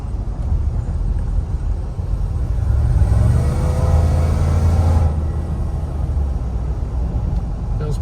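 An LT4-powered Cadillac Escalade drives on the road, its low engine rumble swelling steadily to a fuller, louder drone for a few seconds before easing back to a steady hum.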